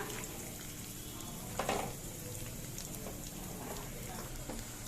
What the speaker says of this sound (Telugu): ఇదిగోండి, మనకి చూసారా ఫ్రై అవుతున్నాయి.